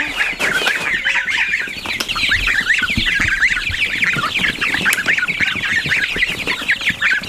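A brooder full of young farm chicks keeps up a dense, continuous chorus of high peeping and cheeping, close and loud throughout with no speech.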